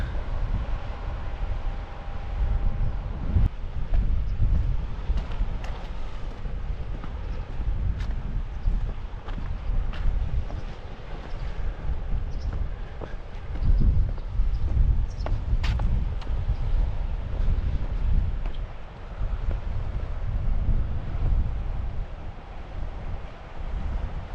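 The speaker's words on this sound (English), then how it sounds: "a wee shot of the dramatic sky with the saltire blowing in the wind" Strong wind on an open Scottish coastal bay near Pettycur beneath a flapping saltire flag, a constant loud gusty rumble buffeting the microphone, with faint flutters and no clear speech.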